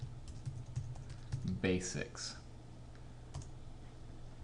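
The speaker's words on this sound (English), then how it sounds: "And then you have to hit enter on your keyboard once you're done typing it" Keys on a computer keyboard clatter in a quick burst of typing, close and fairly quiet, with a short spoken word and a final keystroke partway through.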